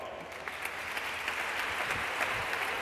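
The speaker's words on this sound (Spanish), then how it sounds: "Por favor, un fuerte aplauso para nuestra revisora, Lara" Steady, moderately distant applause from an audience at an awards gala fills the room, a dense continuous patter of many hands clapping without letup and no talking over it.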